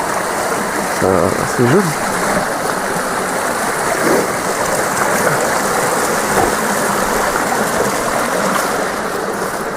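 A small stream on a hiking trail in the Morvan countryside of France flows with a steady, full rushing murmur throughout, while a person speaks briefly over it.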